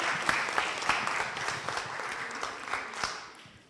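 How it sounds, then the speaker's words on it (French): An audience at a conference working-group session applauds its panelists with a dense wash of many hands, steady at first and then gradually thinning and fading toward the end. "Donc merci beaucoup, on les applaudit."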